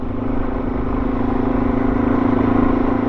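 Motorcycle engine running steadily near a beach after a ride along the sand, a loud close rumble with a slight rise in revs toward the end, no voices.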